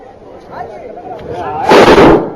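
A loud bomb blast bursts out near the end of a civil defence mock drill staging serial explosions, following a brief stretch of quieter background noise.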